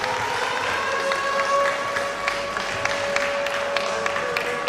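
Crowd applause for two fighters at a combat sports event: sustained clapping and noise from an indoor audience, with a steady tonal hum running beneath.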